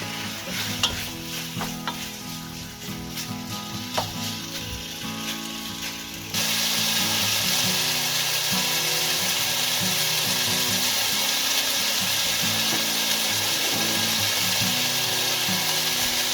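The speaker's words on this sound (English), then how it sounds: "Cook pork belly until it's turned brown." Pork belly browning in a pot over high heat with oil and garlic, a loud continuous sizzle and crackle that gets noticeably louder and denser partway through, with no voices.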